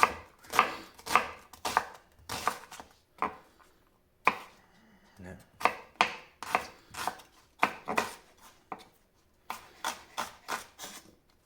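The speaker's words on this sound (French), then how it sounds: "Et là, je vais l'émincer grossièrement." Knife on a cutting board coarsely chopping food for a pork curry sauté, sharp crisp strokes in quick bursts of several cuts with short pauses, close and loud, no talk.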